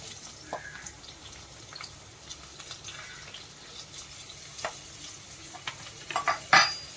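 Onion tossed into hot oil in a pan with curry leaves while cooking kurma rice, giving a steady quiet sizzle with light stirring scrapes and a few sharper pops and clinks near the end.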